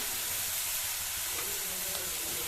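Vallarai keerai greens are sautéed with salt in a hot pan for chapati dough, giving a steady, close, even sizzle and hiss. A couple of faint stirring scrapes break through, with no talking.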